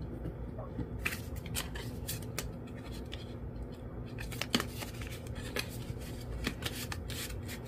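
Paper cash bills being creased and folded in half at close range, giving soft, repeated rustles and crisp scraping over a steady low background hum, with no talking.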